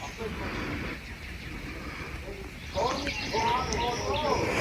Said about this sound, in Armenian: Լսեք ծիտիկների ծլվելոցը, թռչունների։